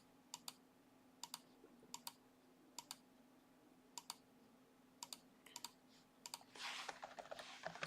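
Bursts of computer keyboard typing, a few quick keystroke clusters spaced through a quiet room with a steady low hum, ending in a denser flurry of clicks.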